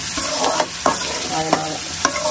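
Cinnamon, cloves and cardamom fry in hot oil in a pan, loud close sizzling under a few sharp stirring scrapes and taps against the metal, brief and without speech.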